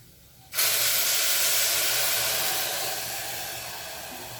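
Boiling water hits hot rice in a pan with a sudden loud sizzling rush, then the steamy hiss holds and slowly fades.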